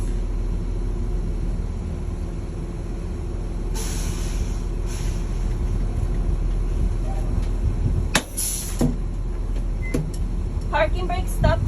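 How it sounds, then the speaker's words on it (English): A school bus rolls forward with a low engine rumble, then its service brake brings it to a stop with a short sharp air hiss and a few squeaks and clicks near the end. "allow the bus to roll, pull on my service brake, and the service brake should stop the bus"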